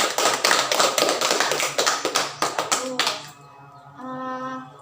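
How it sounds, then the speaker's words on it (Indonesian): A group claps hands together in quick, regular bursts for about three seconds, then the clapping stops and a voice carries on briefly. "Oke, tepuk tangan."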